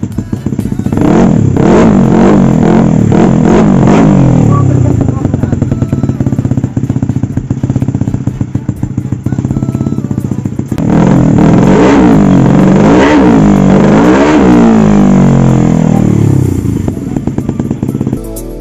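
A 220cc motorcycle engine revs loudly and up close, rising and falling in repeated throttle blips over a steady idle, with mechanical clatter in the background and no talking.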